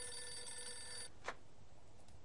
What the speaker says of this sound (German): Ach, jetzt klingelt unser Telefon, glaube ich.